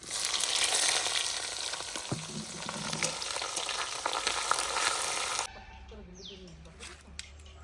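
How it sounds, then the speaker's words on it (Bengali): Chopped onions fry in hot oil seasoned with bay leaf, garam masala and cumin for a village-style mutton curry. A loud, dense sizzle runs steadily for about five seconds, then drops abruptly to a much quieter background. "পেঁয়াজগুলো দেখুন ভাজা হয়ে গেছে সুন্দর করে।"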